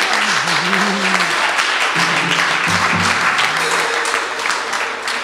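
A church congregation applauds in a continuous, loud roar of clapping, with a voice speaking over it near the start and a sustained vocal tone running underneath.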